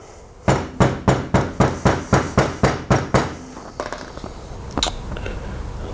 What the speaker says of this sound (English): Lightly tap it with the mallet.